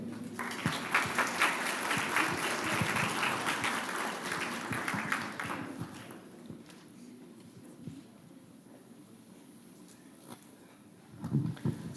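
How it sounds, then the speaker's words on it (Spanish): An audience claps to welcome a speaker at a university conference on constitutional jurisprudence in Arequipa, strong clapping for about five seconds that fades into room quiet, with a short burst of noise near the end. "lo recibimos con un fuerte aplauso"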